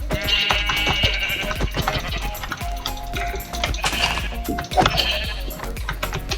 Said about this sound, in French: Encore un petit mouton.